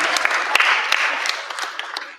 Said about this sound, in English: Give a round of applause to that